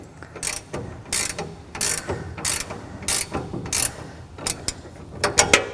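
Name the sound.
tightening a nut with 17mm and 14mm wrenches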